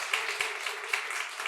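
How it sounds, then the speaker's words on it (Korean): Church congregation at a Christmas morning service claps for the worship team, a dense, even patter of many hands sustained throughout the short moment. "박수 한번 보여드립시다"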